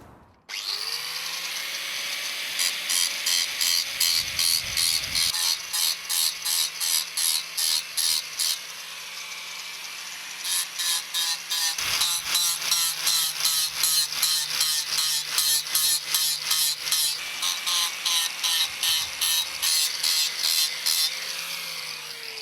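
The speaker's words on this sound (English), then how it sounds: "Okay, so that's how we grind a rim." Bicycle wheel rim being ground with a rim-grinding tool, a close, rapid rasping whine in repeated bursts over a steady motor hum, with brief pauses between passes.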